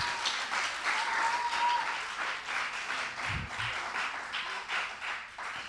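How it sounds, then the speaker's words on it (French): Studio audience applauding at the close of a French TV news-presenter contest final, a dense steady wash of clapping filling the whole stretch at fairly even loudness. "Merci sous vos applaudissements."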